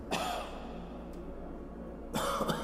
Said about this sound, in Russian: А кто кашляет?